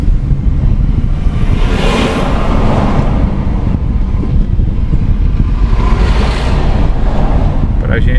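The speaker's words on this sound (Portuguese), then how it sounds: "Pra gente escutar a trilha sonora, os motores" Loud, rushing road noise through an open car window on highway BR-116 near Jaguaquara, Bahia, with wind buffeting and engines droning past, swelling twice as vehicles pass close by.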